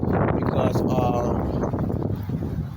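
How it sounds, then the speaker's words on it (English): Strong gusting wind buffets the microphone in a Fort Myers yard, a rough, loud, broadband roar that holds steady throughout, with a person talking over part of it. "today's a bad windy day for Myers"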